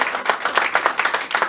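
A church congregation claps together in a steady, fast rhythm acclaiming Jesus Christ, many hands in a loud, close, even beat.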